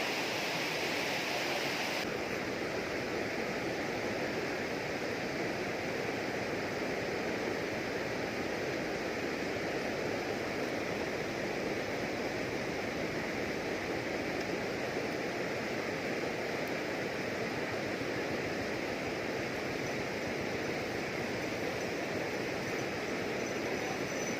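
Strong water rushes through a stream at the headwaters of the Muak Lek reservoir, a dense, loud and unbroken roar that stays constant throughout with no voices.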